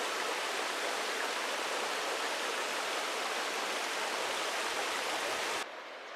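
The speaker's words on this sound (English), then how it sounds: "Here's a few more of the beautiful waterfalls on this trail to Upper Holland Lake." A waterfall on the trail to Upper Holland Lake in Montana's Bob Marshall Wilderness roars in a steady, full rushing hiss of falling water, loud and constant throughout, fading slightly at the very end.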